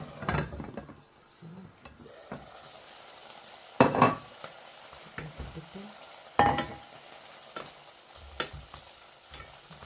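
German sausage sizzles and fries in a pan, with a steady crackle under several sharp scraping stirs and clinks of a utensil against the pan, close and fairly loud.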